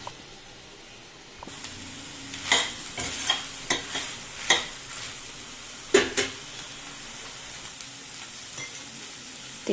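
Potatoes and green peas fry in hot oil for an aloo matar bhaji, with a spoon scraping and stirring through them in a string of sharp clattering strokes over a soft, steady sizzle.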